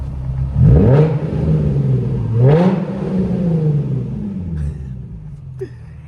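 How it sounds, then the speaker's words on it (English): Two loud, close revs from a Nissan 350Z with a Tomei exhaust, each sweeping up sharply and then falling back to a burbling idle, followed by a few faint clicks. "Let me give you guys a little rev real quick"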